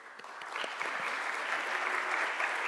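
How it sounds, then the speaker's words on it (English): An audience applauds at a university sustainability ranking award ceremony, a steady wash of many hands clapping that stays fairly even and moderately loud throughout. "Big applause to us all, the champion of sustainable university."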